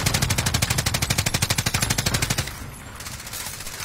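A PPSh-41 submachine gun in Call of Duty firing one long rapid automatic burst of about thirty evenly spaced close shots, then cutting off into quieter background noise.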